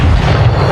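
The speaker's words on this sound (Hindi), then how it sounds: "फिट्जगेराल्ड सामने आता है और उस पर गोली चला देता है," A gunshot from a film's soundtrack lands as a loud, dense, low boom that fills the short moment without any clear decay.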